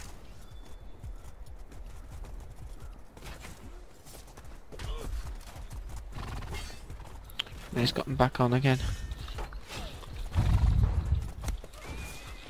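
A cavalry horse under its rider whinnies and clip-clops across a video game battlefield, with a loud neigh midway, amid distant gunfire and voices talking over the action.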